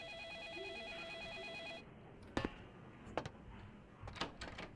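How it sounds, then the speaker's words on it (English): A telephone rings in the video game Vampire: The Masquerade – Bloodlines, a bright warbling electronic trill that stops after about two seconds, followed by a few sharp clacks and thumps. "Don't answer the phone."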